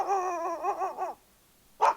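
A dog lets out a drawn, whiny bark that wavers for about a second, then after a short pause gives one sharp, clipped bark, close and clear in a quiet room.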